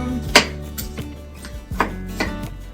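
A knife chops a tomato on a cutting board, a few sharp, close thuds spaced unevenly.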